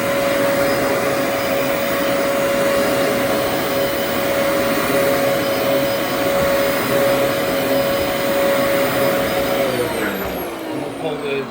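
Dyson upright vacuum cleaner running over thick carpet with sand in it, a loud, steady motor roar with a high whine held throughout before it begins to wind down near the end.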